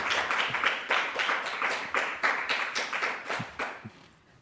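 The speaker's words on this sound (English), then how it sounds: "And another round of applause, please." Applause from a seated audience at a university talk on queering datasets, a steady patter of many hands clapping for several seconds, fairly close and fading slightly at the end, with no voices over it.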